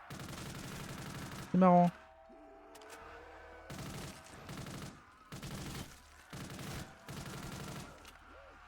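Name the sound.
shotgun firing in a video game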